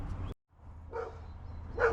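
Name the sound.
dog barking in the background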